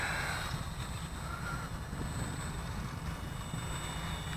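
An eFlite P-51 Mustang RC plane's electric motor whines steadily during takeoff, a faint continuous buzz over rumbling wind noise, heard from a distance outdoors.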